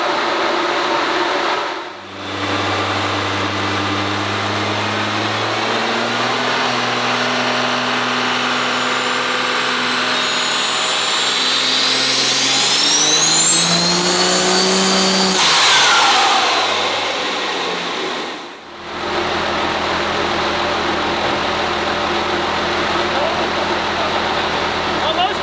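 A turbocharged farm truck engine revs on a second run, its droning pitch climbing steadily into a loud high turbo whine before dropping back, then holding a steady heavy drone, close and continuous.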